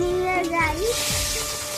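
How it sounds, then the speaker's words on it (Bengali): Fish frying in a pan in a home kitchen sizzles as a steady broadband hiss, with a voice and tonal chatter rising over it in the first second. "মা হচ্ছে সমস্ত মাছগুলো ভেজে নিচ্ছে।"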